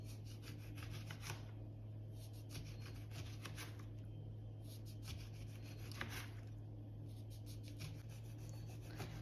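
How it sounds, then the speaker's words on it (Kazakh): A knife slices a lemon into rounds on a board, a steady series of soft rasping cuts with brief crisp strokes, close and quiet, with a low hum underneath. "Сосын лимонды дөңгелектеп кесеміз."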